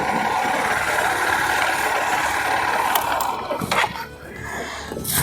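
A Honda Unicorn motorcycle engine idles up close with a steady, busy mechanical clatter that holds evenly throughout, briefly dipping and rising near the end, with no voices.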